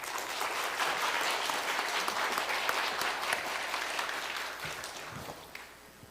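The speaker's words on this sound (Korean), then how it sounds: "우리 귀한 교수님 나오실 때 뜨거운 박수로 환영해 주시길 바랍니다." A congregation at a church anniversary service claps warmly to welcome a professor to the front. The dense applause holds steady for several seconds, then thins and tapers near the end.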